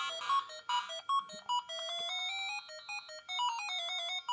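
Burger Time game sounds from a tiny keychain mini game console: bright beeping electronic melody notes in a quick chiptune run, close and clear with no talking.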